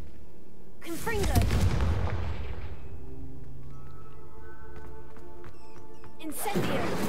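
A Confringo blasting spell cast in Hogwarts Legacy gives a loud explosive boom that rumbles and decays over about two seconds, followed by quiet game ambience and a second blast starting near the end.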